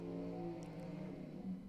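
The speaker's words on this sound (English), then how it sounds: "Revs up the big motor," A drag racing truck at a St. Louis race revs its big motor ahead of a burnout, a loud sustained engine drone with rising harmonics and no talk over it.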